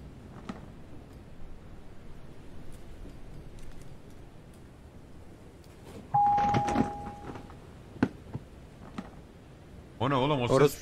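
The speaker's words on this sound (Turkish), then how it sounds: "Kapıyı çal, zili çal." A doorbell rings in the horror video game Night Delivery, a steady electronic tone held for about a second and a half, followed by sharper game thuds and a burst of noisy clatter near the end, with faint talk throughout.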